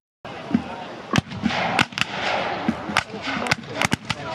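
Rifle and gun fire at an American Civil War reenactment of the Little Round Top battle, with a string of sharp cracks at irregular intervals, some close and loud, over a noisy outdoor crowd.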